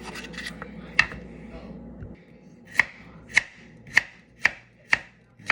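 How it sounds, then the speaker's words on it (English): Knife chopping carrot on a cutting board during a Jamaican stewed turkey meal, one sharp cut followed by a steady run of six crisp, evenly spaced chops, close and loud over quiet kitchen background. "I'm cutting up some carrot guys."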